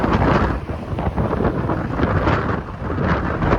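Strong, cold winter wind on Islington Avenue in Etobicoke buffets the microphone in a continuous loud roar with gusty swells, no voices heard.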